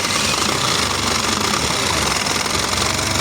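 A small engine fires up after a timing adjustment and runs with a rough, rapid knocking rhythm, loud and close throughout.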